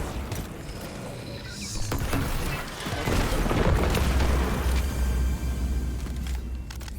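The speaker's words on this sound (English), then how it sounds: "Acolyte grenade coming in." An acolyte grenade goes off during a master-difficulty lost sector fight in Destiny 2, a loud booming blast that swells mid-clip and rolls on amid dense game noise and rumble.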